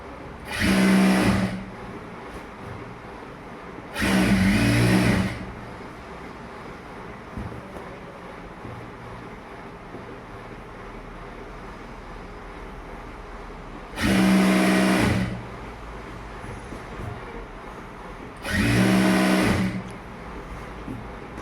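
A sewing machine stitches a straight seam on pant elastic in four loud, steady bursts of a second or so each, with quiet pauses between them and no talking.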